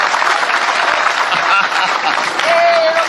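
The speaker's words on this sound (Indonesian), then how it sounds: "Tepuk tangan untuk Bung Rocky." Loud, close applause from a large audience at a public talk, a thick continuous clatter of hands mixed with faint chuckles and murmuring voices, and a short tonal whistle near the end.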